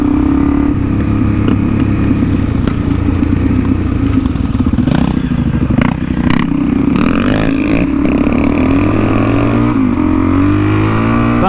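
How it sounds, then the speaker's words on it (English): An older KTM dirt bike rides hard over rough terrain, its engine roaring loudly and continuously with revving surges, clatter and scraping from the rough ground throughout. "He's got an older school KTM, but it's absolutely eating up the terrain."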